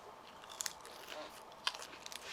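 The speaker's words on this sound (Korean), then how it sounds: "야채부터 입에 집어넣겠습니다" Someone eating salad vegetables with onion cream dressing, a few close, quiet crunchy bites and chewing clicks over a soft background.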